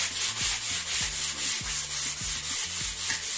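Sandpaper rubs over a living room wall in a steady rhythmic back-and-forth hiss, close up and continuous, with a low hum beneath.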